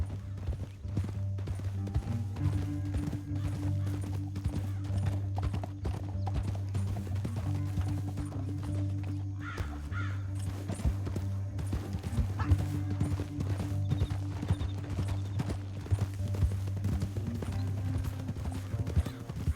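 Steady clip-clop of horse hooves trotting throughout in Red Dead Redemption 2, with a sustained low hum beneath and a brief whinny partway through.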